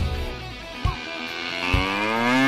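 A cow lets out a long, drawn-out moo near the end, rising out of a quieter rural background with a couple of soft thumps earlier.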